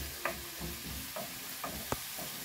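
Onions fry in a pan with oil, giving a steady soft sizzle with a few light scraping stir clicks, fairly faint and close with no talk.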